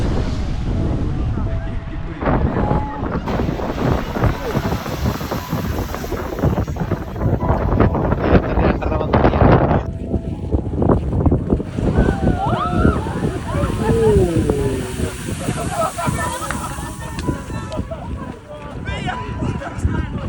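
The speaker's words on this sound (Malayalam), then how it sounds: "നമ്മളിപ്പോൾ നിൽക്കുന്നത് ഐസ്ലാൻഡിലെ നിലവിൽ സജീവമായ സ്ട്രോക്കൂർ എന്ന് വിളിക്കുന്ന ഗെയ്സിറിൻ്റെ" Strokkur geyser in Iceland erupts outdoors, its surging water and steam blending with heavy wind buffeting the microphone, while people talk nearby throughout.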